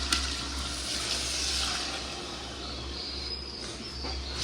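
Mutton bone broth is poured into soaked rice in a pot for a large mutton biryani, giving a steady, close watery rush that runs continuously without talk.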